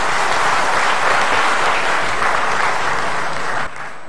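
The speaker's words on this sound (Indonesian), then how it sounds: "Mari kita berikan tepuk tangan kepada Senat." A graduation ceremony crowd at Soegijapranata Catholic University in Semarang applauds the university senate. The clapping is loud and thick throughout, then drops off abruptly near the end.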